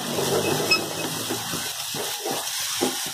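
Ground peanut paste sizzles in hot ghee in a pan, a steady hiss with soft bubbling crackles, close and continuous.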